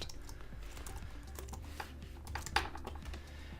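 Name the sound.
typing code on a computer keyboard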